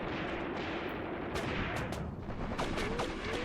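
Gunfire from the flank in the war game Graviteam Tactics: Mius Front crackles over a rumbling battlefield din, with several sharp distant shots and short bursts standing out from the continuous low roar.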